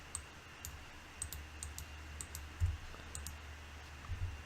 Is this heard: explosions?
no